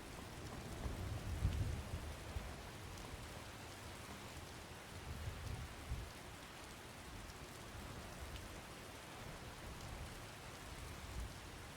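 Steady rain from a Skyrim thunderstorm hisses evenly throughout, with low rumbles of thunder swelling near the start and again around the middle, no voices over it.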